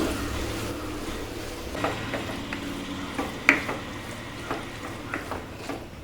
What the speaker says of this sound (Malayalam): നമ്മളിതിലോട്ട് വെണ്ടക്ക ഇടാൻ പോകുക. നല്ലപോലെ മിക്സ് ചെയ്യുക.